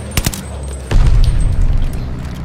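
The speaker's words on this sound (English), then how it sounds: "Allies called a bombing run." A bombing run in Call of Duty Vanguard: a couple of sharp cracks, then a heavy rumbling explosion barrage that rolls on loud and close, with no voices.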